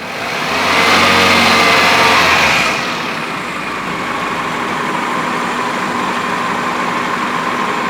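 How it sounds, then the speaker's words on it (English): Car engine revved during an alternator test: a loud rising rev that holds for about two seconds, then falls back to a steady idle hum that continues. "rev it up again"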